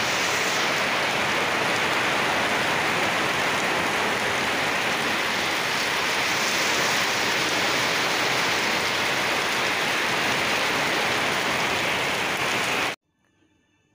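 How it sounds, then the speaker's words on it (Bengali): Heavy rain pours in a dense, steady hiss of drops hitting surfaces, loud and constant, then cuts off abruptly near the end. "দেখো এখন কত জোরে বৃষ্টি এসেছে"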